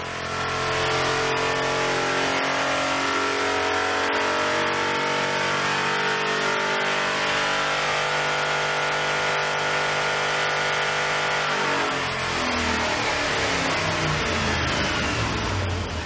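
Ford Raptor 6.2 engine running on a dyno during a final check, a loud steady mid-pitched drone that climbs and shifts in tone toward the end, heard alone with no talk.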